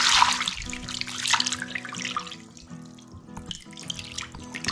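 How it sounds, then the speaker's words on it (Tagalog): Water pours from a tap into a cooking pot to boil pork jowl, a steady close splashing rush with a faint dripping trickle toward the end. "Tapos bubuhusan natin yung ating tubig."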